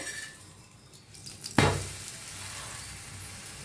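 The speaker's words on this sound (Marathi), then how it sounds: "तूप लावायचं आणि फिरवून घेऊया बघा मस्त शेकायला लागलाय" Dhapate flatbread roasting with ghee on a hot pan, a close steady sizzle that jumps louder when the bread is flipped and keeps hissing after, with a faint scrape of a utensil.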